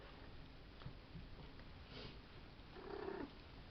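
A female cat in heat purrs softly and gives a brief low meow-like vocal near the end, faint and close in a quiet room.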